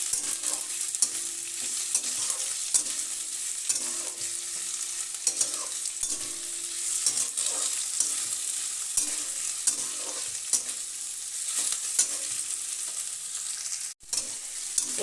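Long capsicum strips tossed with onion, garlic and ginger in a frying pan: steady sizzling with repeated stirring scrapes throughout, close and even, with no voices.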